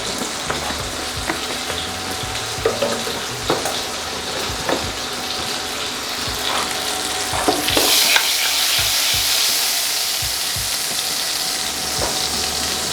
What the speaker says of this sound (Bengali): আমি একটুখানি 1 চুটকির মতন কালো জিরা এর মধ্যে ছড়িয়ে দেবো। এটা দিয়ে আমি তেলটাকে একটুখানি টেম্পার করে নিচ্ছি।